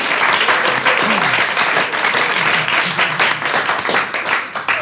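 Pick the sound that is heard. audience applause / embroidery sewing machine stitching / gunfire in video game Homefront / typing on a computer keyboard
audience applause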